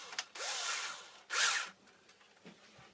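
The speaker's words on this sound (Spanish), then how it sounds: "Por supuesto con un taladro que no tenga mucha fuerza como es este." Low-power electric drill with a 2 mm bit boring a small hole, two short close bursts of whirring and grinding separated by a pause, fairly quiet overall.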